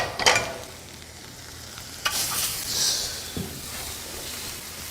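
Fiddleheads sautéing in a hot pan with a little fat give off a soft sizzle and a few sharp stirring scrapes and clatters, close to the ear and fairly quiet, with no voice.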